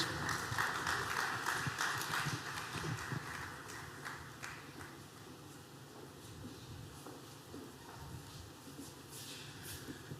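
Steady audience applause at a corporate launch event as an engineer and energy commissioner walks on stage, dense continuous clapping heard from a distance, softening slightly partway through.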